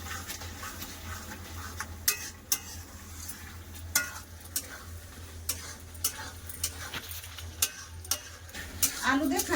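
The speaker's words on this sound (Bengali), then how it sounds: "এবার ভেজে রাখা আলু দিয়ে দেবো আলু দিয়ে মশলাটা ভালো করে কষে নেবো" Spice paste frying with fried potatoes in a pan for a peas pulao and potato paneer meal, a low steady sizzle under repeated sharp scrapes and taps of a spatula stirring, close and moderately quiet.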